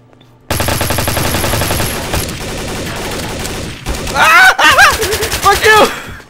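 Rapid gunfire from guns in Garry's Mod Trouble in Terrorist Town, a dense burst of close shots that gives way to excited shouting voices over the last couple of seconds.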